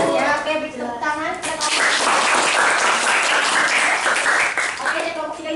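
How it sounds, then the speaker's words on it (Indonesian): Students in a microteaching classroom break into applause after a group presentation, a burst of clapping that swells in the middle, with voices and some talking before and after. "beri tepuk tangan"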